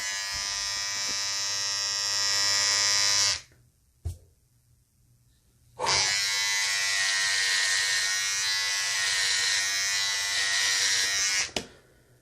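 An electric trimmer buzzes loudly and steadily while trimming a beard, running for about three seconds, cutting out briefly, then droning again for nearly six seconds before stopping, with a short click in the gap.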